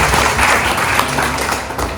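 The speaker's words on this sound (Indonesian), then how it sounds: "Tepuk tangan untuk Istana Buri Kampus." Indoor crowd at a Halal Bihalal and Labour Day gathering gives steady, dense applause that continues evenly for a couple of seconds without speech.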